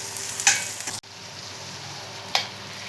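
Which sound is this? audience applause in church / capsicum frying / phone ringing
capsicum frying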